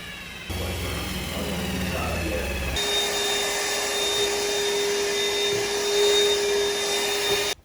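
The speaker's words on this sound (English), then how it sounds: "Well, I drilled 2 holes." A steady, loud power-drill whine runs for several seconds while drilling holes in a carbon-fibre car boot lid, starting abruptly and holding a constant droning pitch before cutting off.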